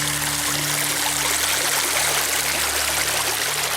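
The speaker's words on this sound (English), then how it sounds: "All that bubbling over the rocks." River water bubbling and rushing over rocks in a New Hampshire river system, a steady close broadband flow of churning water with no gaps, heard alone without talk.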